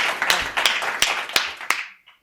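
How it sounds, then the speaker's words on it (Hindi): Audience clapping at a live Hindi comic poetry show as poet Lal Ji Dehati is welcomed onstage, a handful of sharp distinct claps over a softer ragged patter that fades out quickly. "जोरदार तालियां बजाकर लालजी का आमंत्रित करिए"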